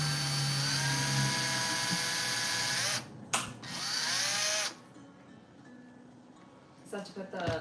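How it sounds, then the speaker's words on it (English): Power drill with an oversized bit boring into a magnetic tabletop forest tree terrain piece, a loud close whine rising and falling in pitch, stopping briefly, then fading to quiet handling noises. "My drill bit's too big."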